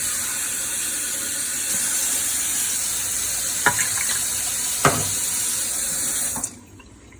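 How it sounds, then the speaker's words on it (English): Water poured steadily into the stainless base of an Instant Pot, a continuous close splashing stream with two brief knocks midway before the flow cuts off near the end. "I'm pouring two cups of water in the base."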